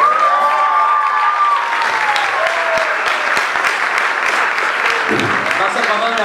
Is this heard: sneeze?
no